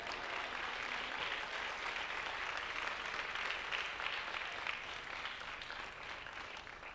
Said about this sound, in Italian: Un forte applauso ci vorrebbe.